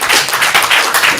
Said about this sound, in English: John, give a round of applause.